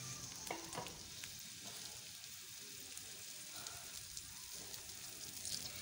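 A tempering of onion in a frying pan sizzles softly and steadily while a spoon stirs it through, with a few light scraping clicks near the start.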